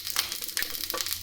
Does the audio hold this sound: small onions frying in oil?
yes